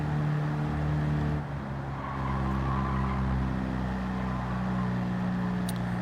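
Tiny 30 hp rear-engined Fiat in Gran Turismo 7 on the Nürburgring, its small engine droning steadily uphill with a strained, sustained hum, a brief dip and recovery partway through.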